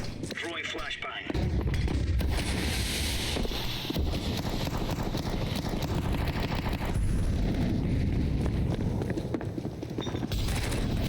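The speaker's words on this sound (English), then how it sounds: "Throwing flashbang." A flashbang grenade in Counter-Strike 2 lands and bursts with a loud, sharp blast, followed by a long wash of dense, noisy game sound and gunfire, with a voice talking over the action.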